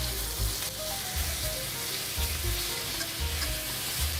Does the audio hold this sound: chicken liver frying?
yes